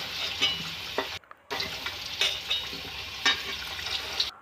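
Potato pieces frying in oil are stirred, a steady sizzle with scraping strokes of a spoon against the pan and a brief pause before the stirring resumes.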